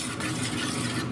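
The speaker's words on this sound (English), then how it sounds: "Stir this up" A spoon stirs a simmering sauce in a covered pot with a little added water, giving a steady soft scraping and bubbling wash for about a second, close and unbroken.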